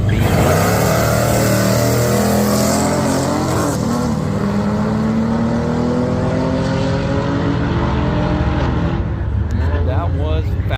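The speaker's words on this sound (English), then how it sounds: "He's racing a pretty fast little car on the side there." A Chevy LUV pickup and another fast little car drag racing side by side at Coos Bay, Oregon, the loud engines roaring and rising in pitch as they accelerate, then fading toward the end, with voices in the background.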